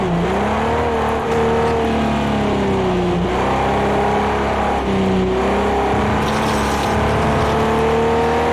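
Jaguar E-Type racing in the Project CARS 2 video game, its engine droning steadily with gear-held revs rising and dipping through corners, loud and continuous with no talk.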